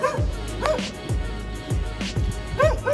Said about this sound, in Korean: 아 저 자식은 맨날 보면은 짖네